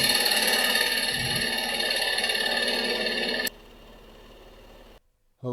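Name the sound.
bowl gouge cutting maple burl on a lathe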